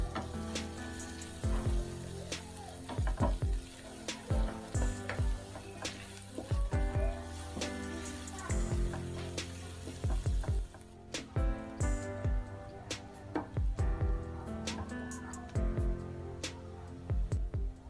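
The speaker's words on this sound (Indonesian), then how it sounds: "kita masukkan 3 siung bawang putih dan jahe yang sudah dirajang. Kita tumis sampai bumbunya berbau harum." Chopped garlic and ginger sauté in a hot pan with a steady sizzle, crossed by frequent sharp clinks and scrapes of a utensil stirring against the pan, close and fairly loud throughout.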